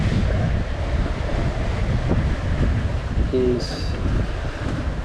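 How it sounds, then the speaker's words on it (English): Wind and waves at sea in the Mediterranean, a steady broadband roar with buffeting wind on the microphone throughout, briefly under a single spoken word. "The wind and the waves are coming in this direction, and we just want to get in there."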